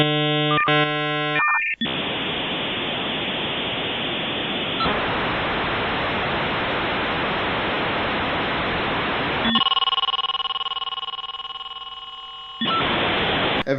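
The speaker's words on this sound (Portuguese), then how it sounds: "eu tô ouvindo o barulho do modem discando" A dial-up modem dials and connects: a few dialing tones, then a long hiss of loud static, then steady layered handshake tones, then a return to hiss, all loud and continuous.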